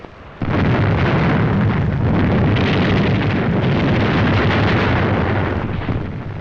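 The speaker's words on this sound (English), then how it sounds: "our landing craft also met fire from shore batteries, which were soon silenced by ships of the British Navy" Shore battery artillery fire at Algiers aimed at landing craft: a loud, sustained roaring blast that fills the whole stretch after a brief quiet start, sounding like distant heavy gunfire merged into one continuous rumble.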